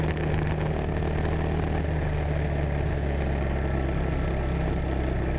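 A race car engine with a broken exhaust gives a rough, steady drone with a harsh, rattling low rumble, constant and loud throughout.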